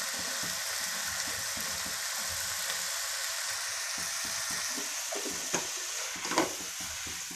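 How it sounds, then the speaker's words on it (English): Ghee sizzles steadily in a pan while vermicelli for semiya upma is sautéed, giving a continuous bright crackle with faint stirring scrapes and a couple of louder spatters near the end. "Let's just saute it nicely."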